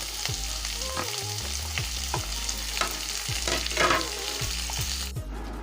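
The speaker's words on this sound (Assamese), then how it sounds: "এতিয়া এই গোটেইখিনি 1 মিনিটমান সময় ফ্ৰাই কৰি ল'ম।" Onion, tomato, ginger and garlic fry in a pan, a continuous loud sizzle broken by repeated scraping stir strokes, ending abruptly.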